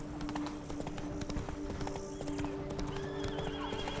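The horse Roach galloping in The Witcher 3, with fast hoofbeat clip-clops, a whinny, and game ambience throughout at moderate level.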